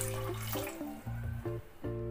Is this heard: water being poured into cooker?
yes